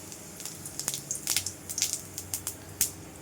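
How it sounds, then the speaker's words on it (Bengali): Cumin seeds hit hot oil for a rohu fish curry, giving a faint, scattered crackle of sharp little pops over about three seconds. "এদিকে আমার তেলটা গরম হয়ে গেছে, এবার একটু জিরে ফোড়ন দিয়ে দিলাম"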